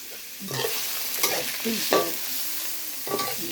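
Shrimp fry in a wok for an old-style red noodle stir-fry, a close sizzle broken by repeated scraping and tossing strokes from a spatula, with no talk.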